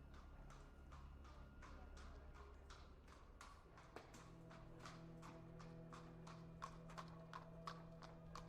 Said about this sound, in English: I think a horse just went by